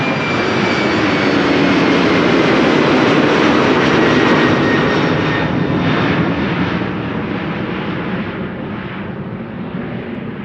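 A jet airplane taking off at Amsterdam Schiphol Airport roars steadily and loudly, easing slightly toward the end, with no voices.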